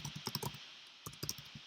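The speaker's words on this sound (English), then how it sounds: "you could start typing in let's say 2010 Colorado" Fast bursts of keystrokes on a computer keyboard, close and crisp, in two short runs split by a brief pause, with no talking.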